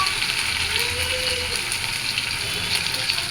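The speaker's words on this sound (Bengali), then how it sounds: "আদাটা একটু ভাজা পরে চালটা দিয়ে দিলাম।" Ginger sizzles in hot oil for khichuri with bay leaves, dried chillies and whole spices, a steady close crackle and hiss that carries on without pause.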